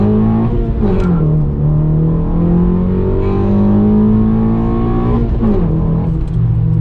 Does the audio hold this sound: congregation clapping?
no